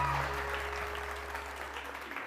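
Quiet applause from a crowd over a low steady hum, fairly faint and brief.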